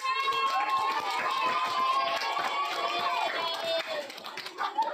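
A class of students clapping together in a classroom, a steady busy patter of many hands with children's voices and chatter mixed in throughout.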